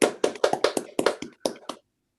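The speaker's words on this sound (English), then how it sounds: "So let's all clap our hands." A few people clapping their hands at the close of a talk, about a dozen separate claps in a short uneven burst, fairly close, then silence.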